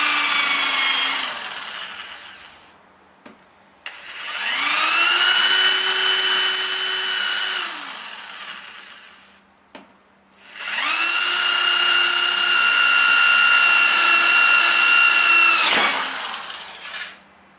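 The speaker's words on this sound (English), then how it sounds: "If your drill bit gets too hot, you won't keep drilling." A power drill whines through three long bursts in a shed, each spinning up, holding steady and winding down, with short quiet gaps between them.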